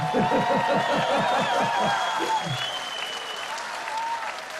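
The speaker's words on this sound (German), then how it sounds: "wartet den Applaus ruhig noch so ein bisschen ab" A crowd at an outdoor concert claps loudly and steadily for a youth choir, with a voice calling out briefly near the start before the applause carries on alone.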